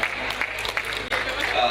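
Brief burst of audience applause at an SME business expo opening, a dense wash of clapping with faint voices mixed underneath, steady and moderately loud throughout.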